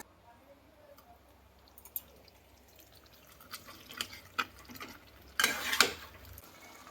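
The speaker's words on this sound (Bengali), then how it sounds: "এবারে ভালো করে কষাবো।" Fish-head moong dal is stir-fried in a pan with fried carrots, giving soft, quiet scraping and clinking of a spatula with sporadic light taps and a brief louder burst of sizzling or scraping near the end.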